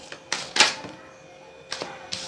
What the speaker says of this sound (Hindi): कार्ड्स गिर गए, लेट मी शफल।